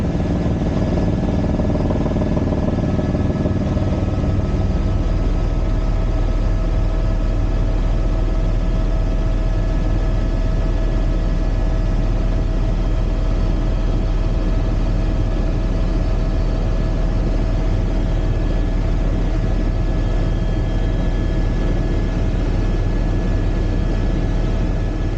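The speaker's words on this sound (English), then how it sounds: "I also opted for no music in this video because I think the helicopter sounds super cool." Blue Hawaiian tour helicopter heard from inside the cabin, a loud, constant low engine and rotor drone with a steady whine, unbroken throughout and with no voices.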